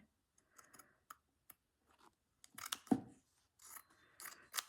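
Scissors snip through fabric during slow hand stitching, a series of crisp, close cuts, scattered at first and then closer together, with a louder burst of snipping near the end.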